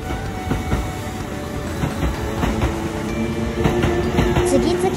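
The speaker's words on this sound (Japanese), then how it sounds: "4番線から宇治山田駅特急が出発しました。" A Kintetsu limited express train bound for Ujiyamada rumbles and clatters as it departs Tsuruhashi Station, wheels clicking over the rails with a faint squeal.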